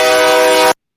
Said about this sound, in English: Okay, that's a train.